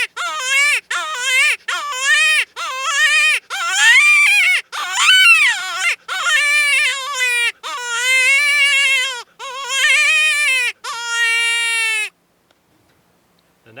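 Dakota Yote Yoter varmint call with a mylar reed blown in a series of about ten loud, close, wavering high-pitched cries, each lasting roughly a second with short gaps, the last held longer before stopping.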